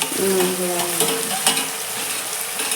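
Onion and tomato fry in a pan with steady close sizzling and crackling, while a utensil stirs and scrapes through the mixture; no one speaks.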